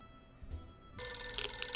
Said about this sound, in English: suddenly a phone starts ringing from somewhere outside